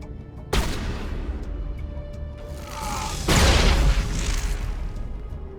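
A grenade going off in Mass Effect Legendary Edition: one sharp blast near the start, then a second, heavier booming explosion that rumbles for about a second over game ambience.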